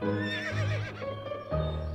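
A horse neighs in the video game To the Moon: a short, loud whinny that rises and wavers, followed by a second snorting call, heard alone without talk.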